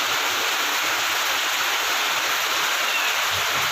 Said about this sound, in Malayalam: പുറത്തെ മഴയുടെ ഒക്കെ കാണിച്ചു കൊടുക്കും ഭയങ്കര മഴയാണ് ഭയങ്കര മഴയാണ്